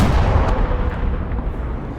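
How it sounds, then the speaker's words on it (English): Heavy artillery fire in a video game, with Katyusha rocket launchers firing continuously as a dense, rumbling barrage without distinct pauses. "Some kind of artillery piece here."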